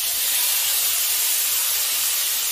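Cut potato, rubbed with turmeric and salt, drops into hot oil alongside whole cumin and sets off a steady, loud, hissing sizzle that continues unbroken.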